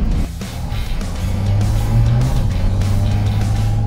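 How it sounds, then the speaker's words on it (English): A Porsche 718 Cayman GT4 RS pulls hard, its engine induction roaring loudly through an air intake beside the cabin, a sustained rising drone that swells and holds throughout. "You can already hear the induction because there's actually an air intake right next to your left ear here."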